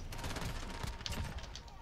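MP7 submachine gun fired from the hip in a shooter game, a rapid crackle of automatic shots in quick bursts, moderately loud amid game noise.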